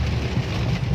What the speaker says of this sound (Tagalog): Tapos umuulan.